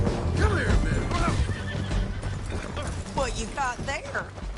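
A horse whinnies loudly over busy Red Dead Redemption 2 game audio, with hoofbeats and a voice talking alongside.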